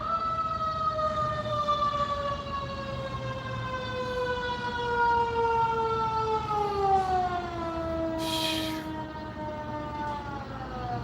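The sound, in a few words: fire truck siren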